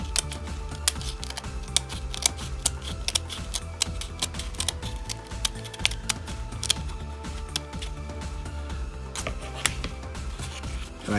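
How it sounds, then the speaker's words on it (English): Repeated sharp clicking snips of scissors cutting into plastic, a fast irregular series of crisp ticks close up, steady throughout. "once the jaws of the scissors are in there, I can kind of nibble away"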